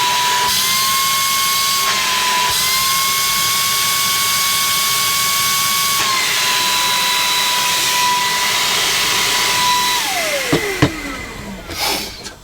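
A GSC50 handheld vacuum cleaner running loud and close on its high suction setting, a steady high-pitched motor whine that holds for about ten seconds, then falls in pitch as the machine powers down, followed by a few handling clicks.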